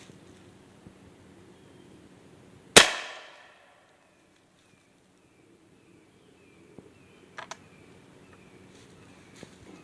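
An H&R 12 gauge survival shotgun fires homemade black powder with an 80 grain charge, one loud sharp outdoor blast that rings off briefly before quiet with faint birds.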